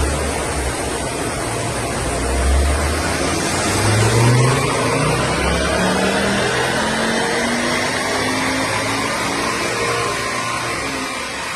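A salvage rebuild car on a chassis dynamometer roars loud and steady, its engine pitch sweeping upward through the gears over a constant rush of rollers and fan noise.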